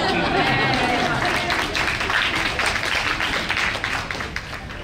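Applause from an audience at a book unveiling event, dense and sustained clapping filling the room, loud at first and tapering slightly toward the end.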